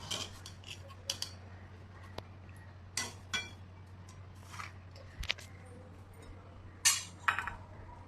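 Peanuts are stirred in a dry pan as they roast, producing sparse, close clinks and scraping taps of utensil against metal at irregular intervals over a low background hum.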